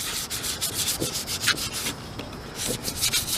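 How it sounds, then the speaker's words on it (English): Light sandpaper is rubbed lightly over flat copper sheet in a steady series of close, even back-and-forth scratchy strokes, with a short pause midway and no voices. "Go over it lightly with some light sandpaper"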